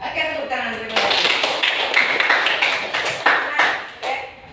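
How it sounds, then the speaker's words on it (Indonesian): Students at a junior high school clapping together in a classroom: a burst of fairly close, crisp hand claps that rises and then thins out, with a teacher's voice heard just before. "Oke, tepuk tangan."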